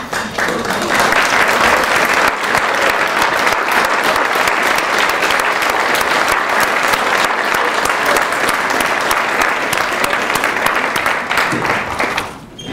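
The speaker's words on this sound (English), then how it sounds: "please stand up so we can give you a round of applause" Sustained, dense applause fills a university alumni awards banquet hall, steady and loud for over ten seconds before tapering off at the end.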